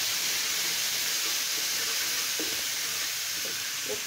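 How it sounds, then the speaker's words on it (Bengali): Spice paste sizzles in hot oil in a pan after ground spices, a steady hissing fry heard close by, with a few soft stirring taps and no voices. "পেস্টগুলো এখন আমি সুন্দর করে ভেজে নেব।"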